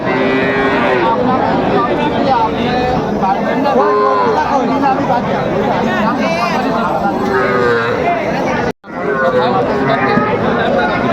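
Cattle at the Raniganj livestock market in Dinajpur, small bulls and heifer calves up for sale, moo repeatedly over a dense crowd of chattering voices, loud and close, with a brief dropout near the end.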